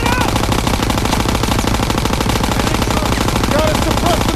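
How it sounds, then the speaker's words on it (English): Sustained, dense machine gun fire from a Call of Duty WWII battle on Hill 493, a rapid rattling stream that stays loud and close throughout, with battlefield clamor and faint voices underneath. "Gotta suppress the machine gun!"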